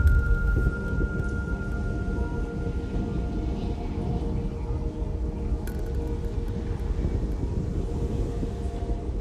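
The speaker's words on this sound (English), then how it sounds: "suddenly we start listening to a plane, but we cannot see it" A small airplane near a parachuting club airstrip, unseen, gives a steady low droning rumble throughout, moderately distant and continuous, with wind noise over it.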